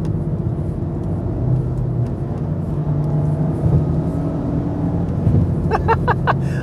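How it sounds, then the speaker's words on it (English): A Honda Civic Type R engine revs up during downshifts, a steady loud rumbling drone with rising pitch swells throughout, heard from inside the car with a faint voice in the background. "oh, I love downshifting in this car"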